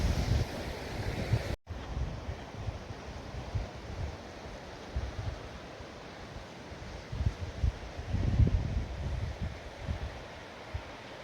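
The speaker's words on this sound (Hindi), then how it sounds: "तो लेफ्ट में ये नदी बह रही है क्योंकि सहस्त्र धाराओं से बनी है" A river fed by many glacier streams rushes below a Himalayan glacier on an alpine trek, a steady broad roar of flowing water mixed with gusts of wind buffeting the microphone.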